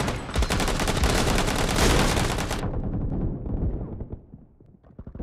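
Gunfire in the PUBG Mobile team deathmatch shooter crackles in a dense, loud burst lasting a few seconds, then cuts off into a fading tail and quiet.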